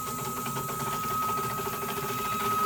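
A DIY CNC machine axis running on a chain drive gives off a steady, mechanical whirring buzz with a constant whine, moderately loud and unbroken, with no voices.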